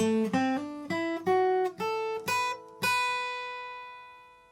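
Electric guitar lick in the style of a song, a short run of about seven clean, bright sustained notes with a slide, ending on a ringing final note that fades out alone.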